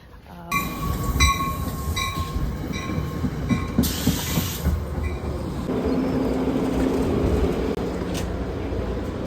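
A commuter train running from New Jersey to New York pulls into a station at night, a steady loud rumble of wheels with high squealing tones and clattering, a sharp hiss of air midway, and a heavier roar as it settles alongside.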